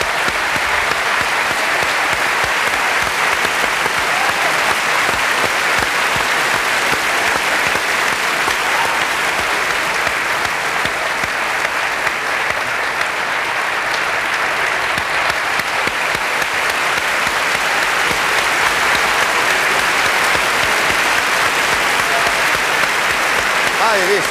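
An award-ceremony audience applauds in a dense, steady wash of clapping that keeps going without letting up, loud and close, with voices mixed into the crowd.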